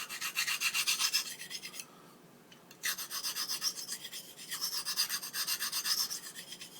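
A blade is drawn across a fine honing stone in smooth, repeated strokes, giving a soft, bright, close rasping hiss with a brief pause partway through, and no talking.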